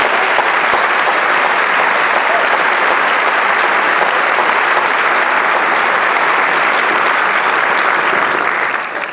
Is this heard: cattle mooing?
no